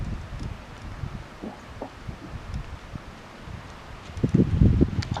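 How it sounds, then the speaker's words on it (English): Wind gusts across an outdoor disc golf course at a college nationals event, a rough low rumble of buffeting that swells louder toward the end, with faint rustling over it. "you can hear the wind picking up"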